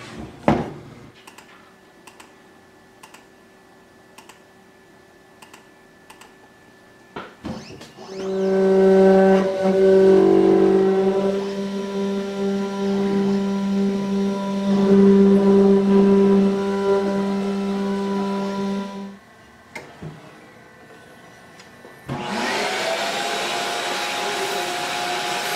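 A power tool cuts 3/4-inch pine plywood with a loud humming drone in two long passes separated by a short pause, with quiet clicks and handling noises before the first cut.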